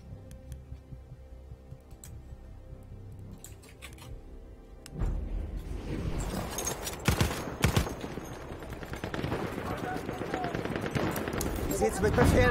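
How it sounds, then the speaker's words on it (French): Heavy gunfire and bullets in the Battlefield 1 video game on PC, fought on the Somme, start soft and then swell into loud, dense, continuous bursts with sharp cracks. "J'entends les balles."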